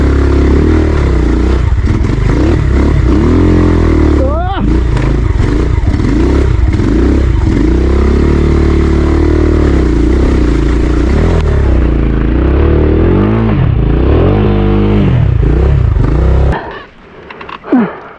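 An enduro motorcycle engine labours up a rough mountain trail on Mt. Marami, revving loudly and continuously with rising and falling pitch, close to the microphone, then cutting out abruptly near the end.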